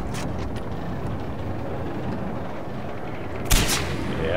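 Gunfire in Far Cry 4 gameplay, a single sharp loud shot cracking out near the end over a steady rumbling background of game ambience.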